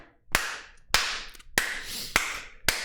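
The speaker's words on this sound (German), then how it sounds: "da klatsche ich in die Hände." Five sharp hand claps ring out at a steady, unhurried pace, each a crisp close smack with a short decaying tail, heard alone without voices.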